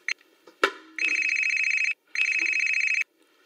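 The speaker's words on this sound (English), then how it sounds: "Phone call." A telephone rings in two loud, sustained electronic trilling bursts, preceded by a few clicks and a sharp knock, with a brief silence between rings.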